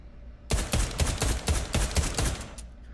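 A 1911 pistol fires in the VR shooter Pavlov, a fast series of sharp, loud shots in a close, rapid rhythm after a short quiet start, with no voices.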